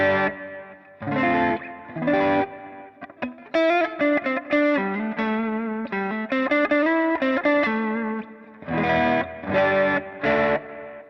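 Glarry Tele-style electric guitar on the neck pickup, played through a clean patch with slight reverb: short strummed chords, then a run of picked single notes and double stops, then more strummed chords at the end.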